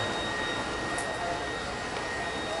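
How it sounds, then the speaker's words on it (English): A Deebot D35 robotic vacuum runs with a steady, continuous whirring hiss that holds at an even level throughout, fairly close and with no talking. "Oh, here we go. Vacuum versus vacuum."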